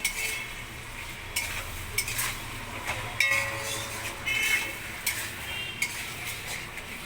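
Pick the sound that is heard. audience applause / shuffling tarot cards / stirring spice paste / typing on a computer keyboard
stirring spice paste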